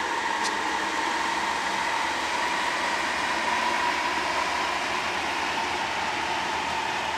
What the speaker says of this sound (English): we now have CSX engine coming in